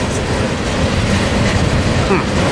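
A freight train of gondola cars loaded with scrap rolls past close by at Tehachapi, a loud steady rumble of wheels with clickety-clack rhythm throughout.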